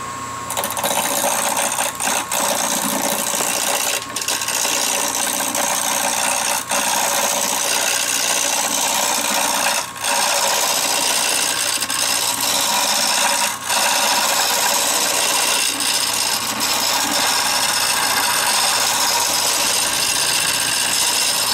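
A wood lathe spins palm wood at about 900 RPM while a 3/8 detail gouge cuts it for a wine bottle stopper, a loud steady motor drone with scraping, tearing texture and a few brief dips, no speech.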